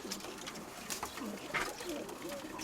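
Pigeons coo softly nearby in low, rolling calls, with faint rustling in the background.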